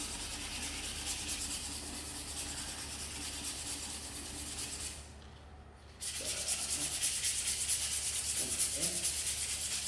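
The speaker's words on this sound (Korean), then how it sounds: "먼저 이쪽 내 모서리 먼저 사포질을 해줍니다" Fine 180-grit sandpaper rubs back and forth on wood edges in steady scratchy strokes, pausing briefly midway before resuming, close up.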